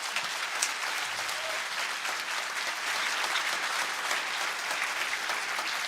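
A crowd applauds at a theological debate about the Eucharist, dense and sustained clapping filling the room at an even level from start to finish.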